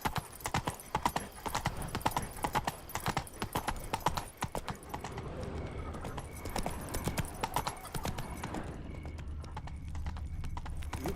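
Roach the horse from The Witcher 3 gallops hard with loud, rapid clip-clop hoofbeats that ease into a softer trot, with a brief whinny along the way.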